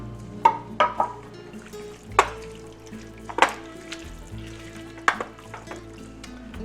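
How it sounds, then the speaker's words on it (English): A spoon stirs fresh slicing tomatoes in extra virgin olive oil in a pan. Sharp clinks and scrapes come every second or so over a soft background. "I'm going to start stirring this around"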